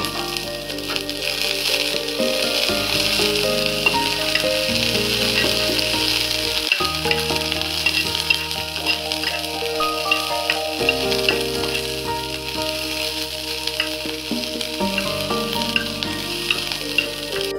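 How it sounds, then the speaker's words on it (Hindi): Raisins and cashews frying in melted ghee for almond laddoos, a loud, dense and continuous sizzle with faint crackles and occasional stirring, heard up close and alone. "अभी इसमें हम डाल देंगे एक बड़ा चम्मच किशमिश साथ ही में डाल देंगे एक चम्मच काजू और इनको फ्राई कर लेंगे"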